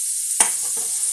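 Beetroot drops into hot coconut oil in a pan, setting off a sudden loud hissing sizzle that settles into a steady frying crackle.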